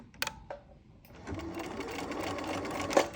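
A home sewing machine runs forward then backward in a continuous close mechanical whir, after a few short clicks at the start.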